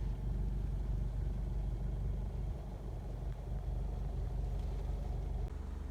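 A Honda CR-V 2.2 i-DTEC diesel engine idling, a steady low rumbling clatter heard close up and alone, holding an even level throughout.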